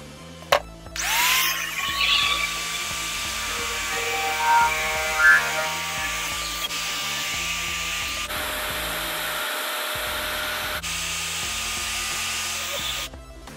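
A power tool cuts and notches a stainless steel sheet, a steady whining drone that runs loud and close for about twelve seconds with brief shifts in pitch and a hard stop at the end.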